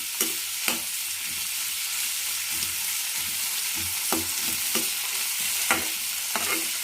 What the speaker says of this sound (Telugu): అందుకని వేయించుతున్నా కొంచెం లైట్గా.